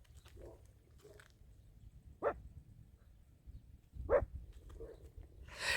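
Faint dog barks in the distance at Kuyalnyk, Odesa, a few sparse yelps scattered over a quiet outdoor background.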